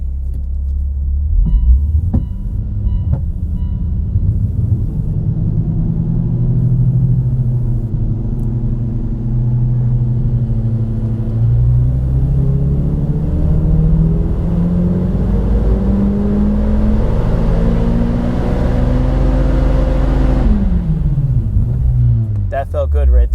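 Engine of a 2011 Mitsubishi Evo X MR on flex fuel running in gear during a data-logging tune, a loud steady rumble that slowly climbs in pitch as revs build, then drops off sharply near the end.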